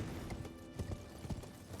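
A horse's hooves clip-clop in Elden Ring, giving several rhythmic, fairly close hoofbeats over a rumbling game background, with no voices.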